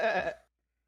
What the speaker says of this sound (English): Oh, are those goats?